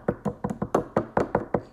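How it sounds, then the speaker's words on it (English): Knuckles knock on a wooden door in a quick, even series of about ten close, crisp raps, each one sharp and evenly spaced. "She knocked."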